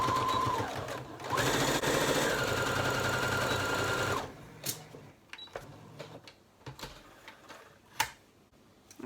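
Sewing machine stitching the turned hem of a fabric face mask piece, a loud fast steady whirr for about four seconds, then stopping, followed by scattered clicks and handling of fabric.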